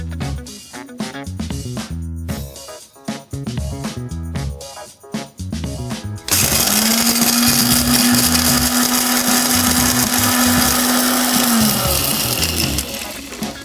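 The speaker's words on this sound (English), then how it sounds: "let's grind some of our spices" An electric spice grinder starts after a stretch of rhythmic background music and runs loud and continuous for several seconds, a high whirring roar with a steady motor hum, then winds down slightly at the end.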